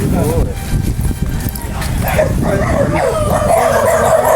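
Several dogs bark and yip nearby on an island, overlapping with people talking over a steady background noise.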